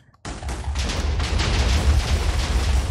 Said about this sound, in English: I was say around 5 stacks of TNT into this. So it's going to be a big bang to start the episode.